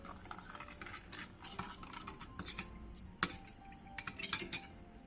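A spoon clinks and scrapes in a bowl while soy sauce, oyster sauce, plum extract, sugar, minced garlic and water are stirred into a seasoning. The clinks are faint and close, with a few sharper taps near the end.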